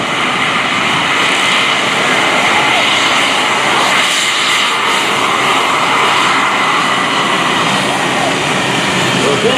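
Military jet aircraft roar at an air force base open house and airshow, a loud, broad, continuous engine rush filling the whole stretch, with crowd or announcer sound blended underneath.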